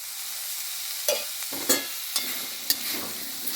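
Chickpea greens curry being stir-fried with oil in a pan, a soft, steady sizzle with four quick spatula scrapes spaced about half a second apart.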